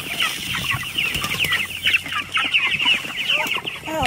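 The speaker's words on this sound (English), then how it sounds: "This chicken got himself stuck in here." Chickens cluck and squawk continuously close by on a garden farm, a busy flurry of overlapping calls with no talking.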